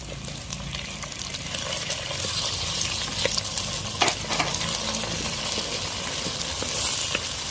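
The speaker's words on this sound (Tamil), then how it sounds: "வெங்காயம் வணங்கிடுச்சு தக்காளி போட்டுக்கலாம்" Small onions and tomatoes sauté in a pan, producing a dense, continuous sizzle with occasional faint stirring clicks, close and steady throughout.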